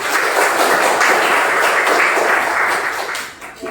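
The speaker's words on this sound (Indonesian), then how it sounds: "Kasih tepuk tangan buat Arya" A classroom of students applauding a classmate gives a dense, steady burst of clapping that holds evenly for several seconds, then thins out and fades near the end.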